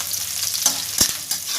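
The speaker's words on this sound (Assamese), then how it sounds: "এয়া ৰচুন আৰু আদা দিছোঁ, অলপ লৰাই দিছোঁ।" Onion, tomato, ginger and garlic fry and get stirred in a pan, a steady close sizzle broken by a few scraping stirs of the spatula, with no voices.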